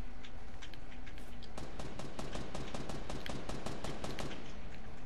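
Rapid bursts of automatic gunfire rattle through a shooter video game, starting after a brief quieter stretch and then firing continuously in dense, loud volleys.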